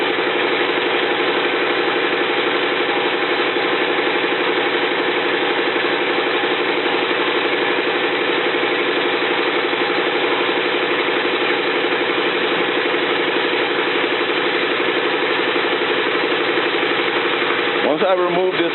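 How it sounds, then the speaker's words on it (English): A steady mechanical drone of an air compressor running, constant and loud throughout, with a brief change near the end. "Please excuse the noise from the compressor."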